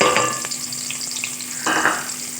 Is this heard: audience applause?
no